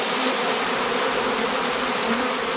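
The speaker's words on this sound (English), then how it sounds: "the bees again congregate around the queens inside it, consolidating once more into a cluster" A swarm of bees drones loudly and continuously at close range as it settles into a heather catching skep, a dense unbroken buzz with no voices.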